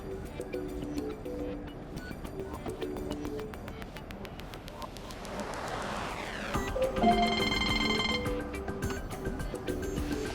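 A Ford Edge II (2015–2020) plays a ringtone through its car speakers, a repeating electronic melody of bright, tonal chimes that grows fuller and louder toward the end.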